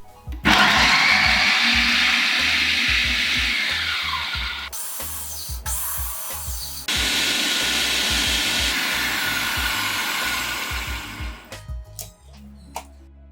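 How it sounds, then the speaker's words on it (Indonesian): A kitchen blender grinds galangal, ginger and spices with half a glass of water into a paste for beef rendang, a loud steady whirring motor that drops out briefly, restarts and then winds down near the end. "blender hingga halus"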